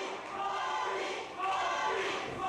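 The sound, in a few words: wrestling crowd chanting Bobby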